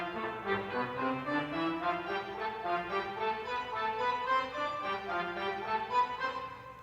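A pipe organ plays a busy, running accompaniment figure from Dupré's Ave Maris Stella, quick continuous notes weaving over soft sustained tones, moderately quiet and steady throughout.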